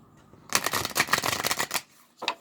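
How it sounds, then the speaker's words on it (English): Spiritual message cards shuffled by hand: a dense, papery riffling burst lasting over a second, followed by a brief pause and a short final flutter of cards, close and fairly loud with no talking. "one more shuffle and we'll just see what else the Spirit has to share with us"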